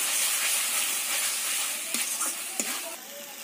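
Chili powder is stirred into chicken curry frying in a pan, giving a steady sizzle and hiss with a few scraping clicks from the stirring utensil.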